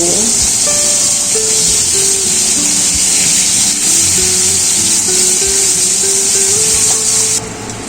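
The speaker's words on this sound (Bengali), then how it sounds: "রিং রিং করে কেটে রাখা পেঁয়াজগুলো দিয়ে দিচ্ছি। পেঁয়াজগুলো হালকা ভেজে নেব।" Onions cut into rings sizzle as they lightly fry in a pan, giving a loud, steady, close hiss that runs without a break and eases slightly at the very end.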